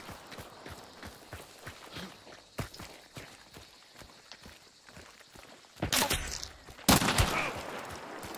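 Gunfire in the video game Hunt: Showdown: a few loud, sharp shots land near the end, after a stretch of steady footsteps and scattered knocks.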